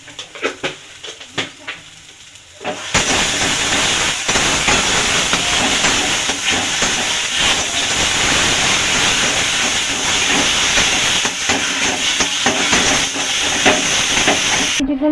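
Mashed green cabbage leaf paste, sweetened with a little sugar, frying and being stirred in a pan: a quieter opening gives way to a loud, steady, close sizzling hiss that runs unbroken to the end.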